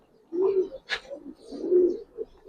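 Pigeons at a seller's coop give soft, low cooing calls, two or three close rolling coos with a brief flutter between, quiet and without talk.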